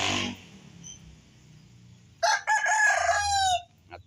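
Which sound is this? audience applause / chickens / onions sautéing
chickens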